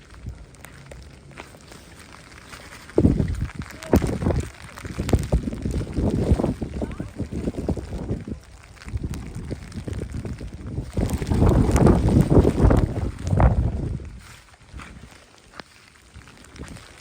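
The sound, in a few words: heavy wind blowing at a rainy viewpoint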